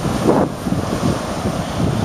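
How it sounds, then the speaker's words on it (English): Waves on an Atlantic Ocean beach, a steady broadband surf wash heavily buffeted by loud wind rumble on the microphone, with no one talking. "Here is the Atlantic Ocean."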